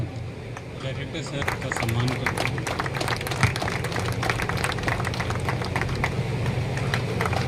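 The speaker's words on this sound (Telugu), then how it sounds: "గట్టిగా చప్పట్లు కొట్టారు." An audience claps loudly at a May Day celebration in an office hall, a steady dense patter of applause running throughout the whole stretch with crowd murmur and voices mixed in.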